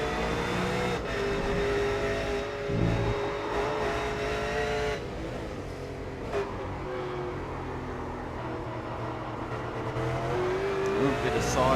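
A V8 race car sliding sideways during a race, heard as steady, loud engine roar with rising revs and traffic passing, under a commentator's voice.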